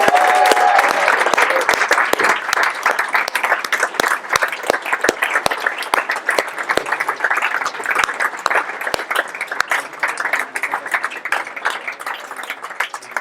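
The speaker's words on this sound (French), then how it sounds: "Donc un petit tonnerre d'applaudissements de rien du tout." An audience at a coding school's demo day gives loud, sustained applause, with many individual sharp claps standing out over the steady clapping for the full stretch before it thins slightly near the end.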